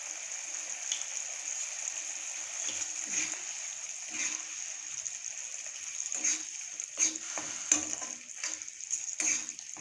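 Kuzhambu curry bubbles steadily in a pot with a soft, continuous simmering hiss, broken by scattered small pops and splashes, close and fairly quiet.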